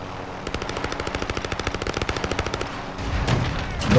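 Rapid automatic gunfire in the video game Call of Duty: Modern Warfare rattles off in a long, evenly spaced burst of sharp shots, followed by a heavier rumbling blast.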